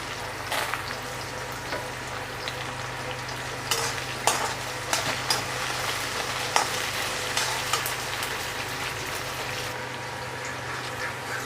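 Dried red chillies fry in hot oil in a pan, giving a continuous sizzle broken by sharp scraping and clanking strikes as a spoon stirs them, close and fairly loud with no talking.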